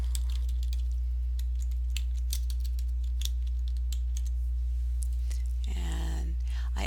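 Computer keyboard typing, a scatter of light, irregular key clicks over a steady low hum, followed by a brief rustling shuffle near the end.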